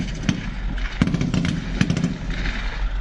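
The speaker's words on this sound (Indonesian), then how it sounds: "Mendengar suara tembakan" Gunfire from an armed group attacking a crowded airport, several sharp cracks and short bursts spread over a few seconds against a steady low rumble, heard from some distance.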